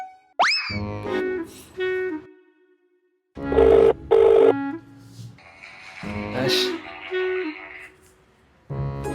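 A phone rings with an incoming video call in a repeating electronic ringtone, bursts of tones separated by pauses, close and fairly loud, with voices over and between the rings.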